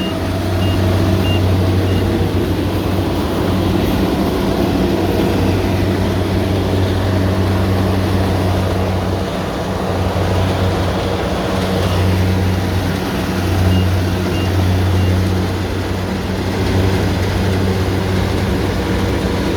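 A rice harvesting machine running on tank-like tracks gives a steady, loud mechanical drone with a strong low hum and continuous rattling throughout, close by and with no voices.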